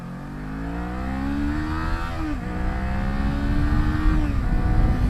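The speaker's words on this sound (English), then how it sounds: "this is a steep hill, and it's just roaring up here." A 2019 Kawasaki Z400 motorcycle engine climbing a steep hill: a loud, close, rising rev that drops briefly at a gear change, then pulls up again into a sustained roar with wind noise.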